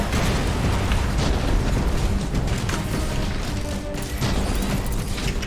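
A bomb blast in a video game fills the clip with a loud, dense roar and crash of rumbling debris, sustained throughout with a slight dip near the end.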